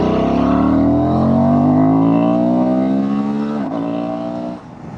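A Honda Transalp motorcycle ridden in the rain, its engine note stepping down through gears in clear descending tones with a sharp break near the end, loud and close with no talk.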